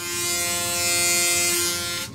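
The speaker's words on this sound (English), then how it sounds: "push that button down to lock it, and that's how I'm going to shave." A Braun Series 9 9370cc electric foil shaver running close up, a loud steady buzzing whir held for about two seconds before it starts to drop away.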